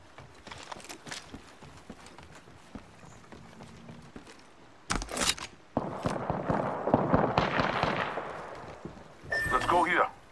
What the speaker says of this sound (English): Listen up, I'm getting shot at. Taking fire, brothers.